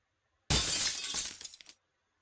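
A glass container shatters in the game Room102, one sudden loud crash that dies away into tinkling fragments within about a second, followed by silence.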